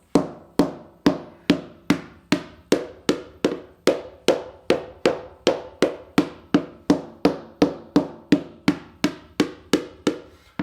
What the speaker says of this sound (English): Second thing I tried was I used this hammer technique. When you hit the hammer,